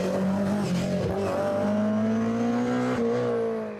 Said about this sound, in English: Next through the wonderful sounds and grunt of the Forenza